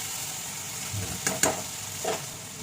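A paste of onion, garlic and ginger ground together fries in a pan, a soft continuous sizzle with a few brief stirring scrapes near the middle, close and fairly quiet, no speech.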